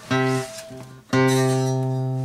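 A guitar plays a few notes of a pentatonic scale, clear plucked tones ringing out one after another with sustained harmonics, no voices.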